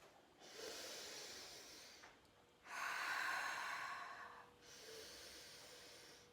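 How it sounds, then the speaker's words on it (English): Three forceful, drawn-out exhalations from a hypopressive breathing exercise, each a long breathy rush of air with a brief quiet pause between, close and fairly soft. "the reason we do this forced exhalation is because when we breathe in this way, our abdominal muscles contract"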